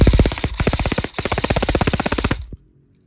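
An E&C M4 CQB airsoft rifle fires on full auto in a rapid, evenly spaced rattle of close, sharp shots for about two and a half seconds, with a brief pause partway through, then stops abruptly into silence.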